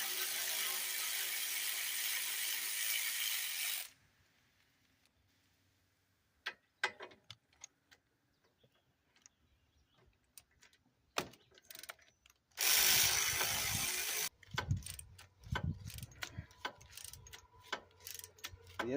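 A ratchet wrench works on a Yamaha Big Bear 250 ATV, giving a series of close, sharp clicking bursts separated by quiet pauses, with metallic clanks in between.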